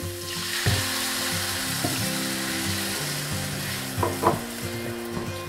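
Milk poured into a hot pan of sugar and grated coconut for coconut barfi sizzles and crackles steadily, with a few sharper spits and stirring scrapes, close and fairly loud, no talking.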